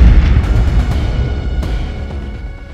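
A grenade explosion sound effect: a heavy, loud boom that rolls into a long rumbling decay with scattered crackling debris, with no voice over it.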